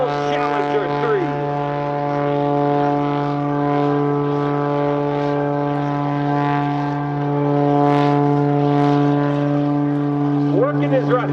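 The Oracle Challenger 3 aerobatic propeller airplane, flown by Sean D. Tucker at an airshow, hums loudly and steadily overhead with a sustained droning tone, under a public-address announcer speaking throughout.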